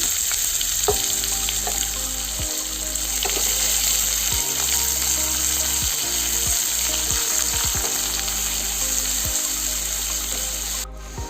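Bay leaf and chopped onion, added with a little cumin, frying in hot oil: a loud, steady sizzle close by, with occasional scraping stirs and no talking.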